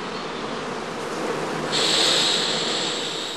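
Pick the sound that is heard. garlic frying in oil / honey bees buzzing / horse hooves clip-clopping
honey bees buzzing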